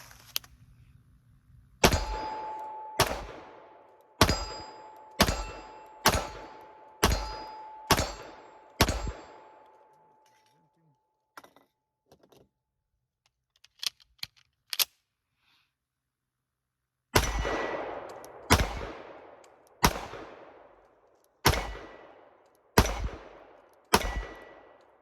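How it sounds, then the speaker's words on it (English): Springfield Operator 1911 pistol gunshots, loud and close, fired in two strings of steady evenly spaced shots with a pause between them, several followed by the ringing ping of steel targets 50 to 55 yards away. "let's just take some shots at some steel"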